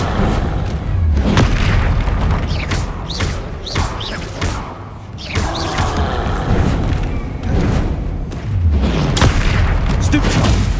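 Repeated magical blasts from Confringo spells in Hogwarts Legacy, heavy booms and thuds arriving in clusters amid combat clatter, with a voice calling out between them.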